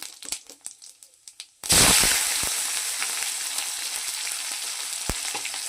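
Vegetables dropped into hot oil seasoned with dried chilies, bay leaf and cumin, erupting into a loud, sudden sizzle after a few light clinks, then a steady frying hiss with occasional crackles.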